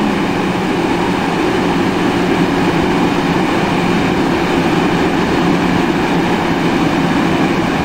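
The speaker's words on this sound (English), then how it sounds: "Let's get that dynamic view of the train that's going." A Metro-North train running on the New Haven Line in the Open Rails train simulator, a steady, loud rumble of wheels and motors with a continuous low drone and no voices.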